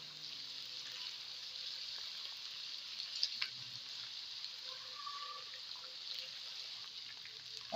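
Ginger garlic paste fries in a pan for chicken nihari, a steady soft sizzle with faint crackles and pops running throughout, fairly quiet and unbroken.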